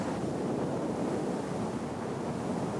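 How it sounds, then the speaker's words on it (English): Steady wind roaring and buffeting the microphone without a break in Death Valley, loud and constant with no voices. "It's always windy here"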